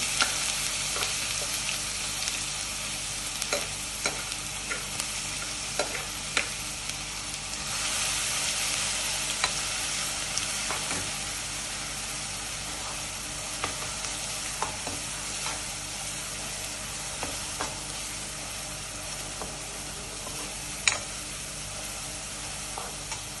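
Ginger garlic paste sizzles in a frying pan of hot oil for a chicken curry, a dense and steady crackle close by with scattered stirring clicks across the whole stretch, no voices.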